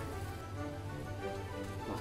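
Roti canai frying in a generously oiled pan gives off a steady, dense sizzle and crackle that runs unbroken and fairly close, with no voices.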